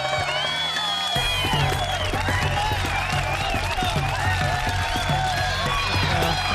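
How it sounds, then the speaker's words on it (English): An online audience gives a round of applause through a video call, a busy overlapping mix of claps, cheers and whoops from many connections, steady and fairly loud from start to finish. "That's quite an impressive round of applause there."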